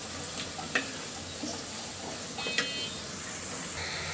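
Spice paste sautéing in a pan for a village-style snakehead fish curry: a quiet continuous sizzle with a few sharp clicks and ticks of stirring against the pan.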